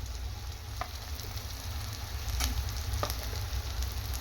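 Ground kuzhambu masala sautéing in sesame oil for a fish curry gives a steady, moderate sizzle throughout, with a few faint scraping stir strokes rising briefly above the hiss.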